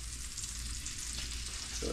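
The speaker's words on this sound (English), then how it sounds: "Got the butter sizzling. Next up, mangroves are taking a swim." Mangrove snapper fillets fry in sizzling butter, a steady close crackling hiss with no talk, swelling slightly near the end as pieces settle into the pan.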